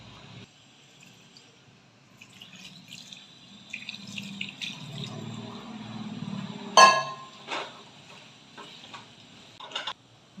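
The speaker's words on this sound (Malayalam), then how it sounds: "ഇതിനകത്ത് കുറച്ച് വെള്ളം ഒഴിച്ച് ഇത് പറ്റിച്ചെടുക്കണം" Water poured into an anchovy and mango masala mixture for nethili peera, heard as faint trickling and dripping with a few soft clinks, building to a sharper splash and clatter partway through.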